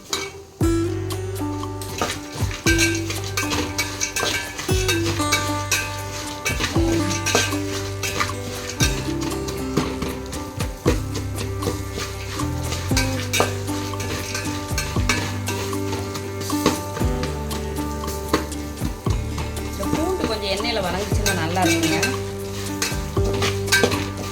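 Puffed rice (pori) being stirred in a pan for a spicy masala snack, a steady dry rustling and scraping of a spoon against the metal with light sizzling underneath, continuous and close.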